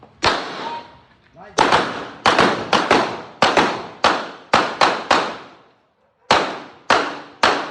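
A rapid series of sharp, loud gunshots, roughly a dozen in uneven bursts with short pauses, close and echoing.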